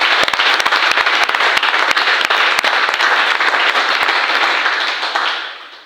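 Sustained crowd applause fills a church meeting as the congregation acclaims the Lord, dense and loud with sharp individual claps, fading slightly at the very end.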